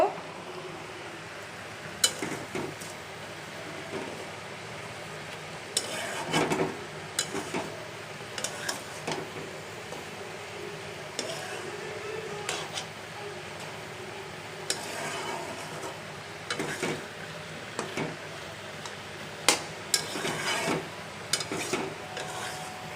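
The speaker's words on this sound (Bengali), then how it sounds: "এখন আমি এখানে কচুরমুখিগুলোকে ভালো করে ধুয়ে দিয়ে দিচ্ছি এখন ভালো করে লাড়াচাড়া করে নিব" Taro roots (kochur mukhi) frying in a pan and being stirred, soft scrapes and light clinks of a spoon recurring irregularly over a faint sizzle, with quiet talking now and then.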